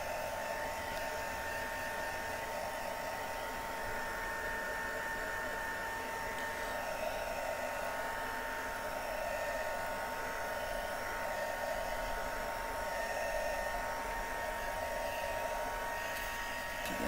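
Heat tool on its drying speed blowing a steady, continuous rush of air onto card for a card-making project, loud and close, holding level without pauses and with no talking.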